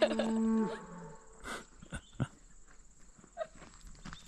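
A herd of cattle in the Black Hills, with one drawn-out moo at the start followed by shuffling hooves, thumps and a short distant low call, heard up close outdoors with no talk.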